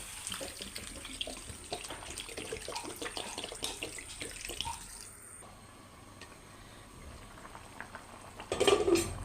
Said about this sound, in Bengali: এখন আমি এটার ভিতরে জল দিয়ে দেবো পরিমাণ মতো। গরম পানি করে রাখি, সেটা দিয়ে দেব।